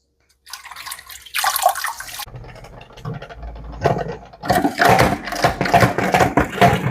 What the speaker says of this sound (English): Gonna give them a little bit of a quick rinse.